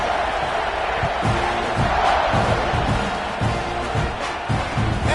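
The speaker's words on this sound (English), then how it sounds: "You think this crowd's going to get loud when their defense comes on the field?" Packed stadium crowd at a Tennessee Volunteers college football game roaring steadily, a loud sustained wall of cheering and shouts with rhythmic thumps running through it.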